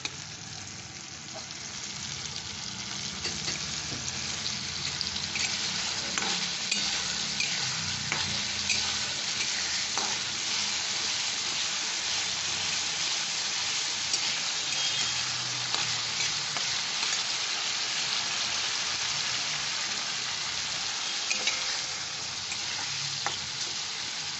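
Spices sautéing in oil for a Bengali prawn fritter curry, with a loud, steady sizzle that runs throughout and repeated spatula scrapes as the pan is stirred.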